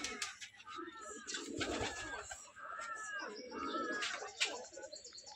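Macharanga tumbler pigeons coo in repeated rounds of soft, rolling calls close by, with a few faint chirps in between.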